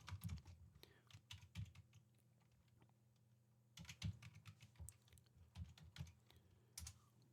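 Keys on a computer keyboard tap in quick irregular bursts, with a few louder single strokes like an enter press, close and fairly quiet in a still room.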